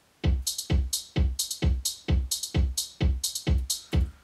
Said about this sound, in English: We get a hi-hat coming in on the offbeats.